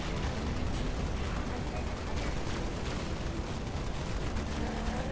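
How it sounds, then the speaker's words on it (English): Grenade blast and gunfire in Halo: Spartan Strike, a dense continuous rumble of rapid shots and booming impacts, loud and steady throughout with faint voices mixed in. "Let me throw a grenade here."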